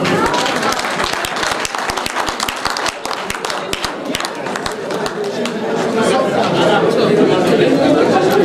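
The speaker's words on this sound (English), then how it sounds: "Please give me a round of applause." Audience applause at an annual general meeting and conference, a dense, steady clapping from a large room that swells louder toward the end, with chatter and voices mixed in.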